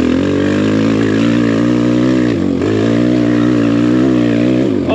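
BBR KLX170RF dirt bike engine droning steadily and loudly as it climbs a hill, holding a sustained close harmonic tone with a brief dip in revs midway and another near the end.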